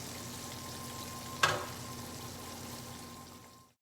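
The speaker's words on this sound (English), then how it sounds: "I like for it to fry in the pan and get a good brown, crusty breading on the bottom" Breaded cube steak frying in a pan, a quiet, even sizzle with a faint hum beneath and one brief clatter near the start, no talk, fading away at the end.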